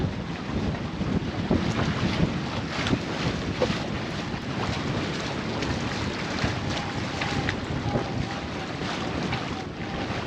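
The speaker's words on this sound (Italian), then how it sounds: "Vento di maestrale che soffia a più di 30 nodi" Strong mistral wind over 30 knots roars and buffets continuously, with rushing gusts and water sloshing nearby; loud and unbroken, no talking.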